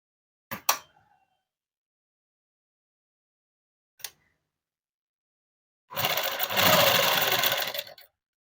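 A sewing machine stitches a dress, running in one steady, fairly loud burst of about two seconds near the end. Before it come a couple of short clicks and a faint tick, with quiet gaps between them.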